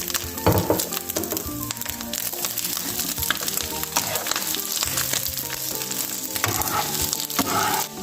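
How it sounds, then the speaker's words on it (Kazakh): Liver sizzles and crackles steadily in oil in a pan over low heat, with occasional scraping and stirring clatter, no talking. "Қызғаннан кейін бауырымыздың барлығын салып 5 минуттай баяу отта қуырып аламыз"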